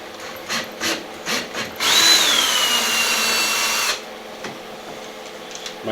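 A few short bursts of a power drill, then a sustained two-second whine as it bores into a hard boat wall, followed by quiet scraping.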